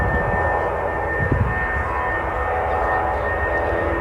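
Outside Manchester Airport, an SAS airliner in a special all-white livery produces a steady, broad engine roar that holds at an even level throughout.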